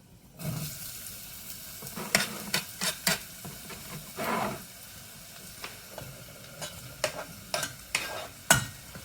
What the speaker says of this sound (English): Chuck the onions in, you should hear it sizzle.